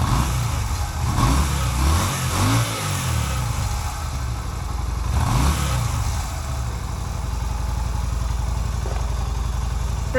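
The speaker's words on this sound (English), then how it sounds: "Will it rev up?" A Yamaha V Star 250 motorcycle engine idles with a steady low chug and is revved twice, each rev rising and falling before it settles back to a lumpy idle, heard close by.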